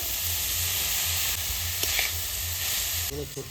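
Banana flower and prawns, seasoned with turmeric and salt, frying in a pan with a continuous close sizzle and hiss. A few soft stirring knocks come near the end.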